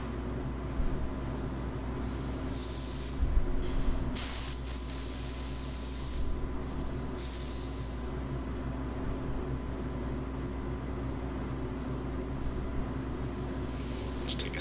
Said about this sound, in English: It's a spray adhesive, so you just spray it down